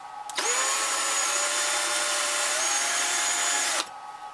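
A power drill runs continuously for about three and a half seconds, boring into a plastic canopy on a Ziroli Texan model airplane. The whine is loud and steady with a slight pitch shift partway through, then stops abruptly.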